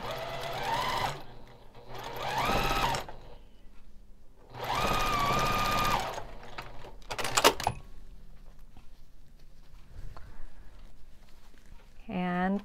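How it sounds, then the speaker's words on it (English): A sewing machine stitching quilt block seams for a churn dash quilt, running in several close, loud whirring bursts with pauses between, then softer handling clicks. "And we'll sew that together."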